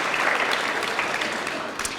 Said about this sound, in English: let's give them a round of applause for their great work and stand on timeline.